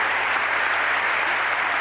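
Studio audience applause on a 1992 French children's video-game TV quiz show, a steady dense clapping wash filling the whole moment at even loudness with no voices over it.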